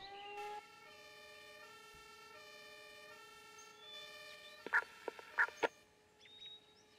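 Ambulance siren from the emergency-services game Emergency 4, a steady wailing multi-tone blare held throughout, joined near the end by a few sharp chirping bursts, with no speech.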